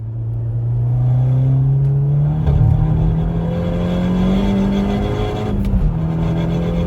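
A Mk2 SEAT Leon Cupra race car is driven on track at Oulton Park, its engine droning steadily close by from inside the car, with pitch shifts as it changes gear through a sweeping bend.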